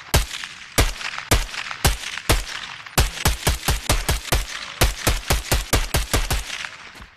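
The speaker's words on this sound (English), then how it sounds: "Jeez, I forgot how good the suppressor sounds." A suppressed Hemlok rifle in the VR game BONELAB fires in punchy, evenly spaced single shots, then in quicker runs of rapid fire, each report close and crisp with no talking over it.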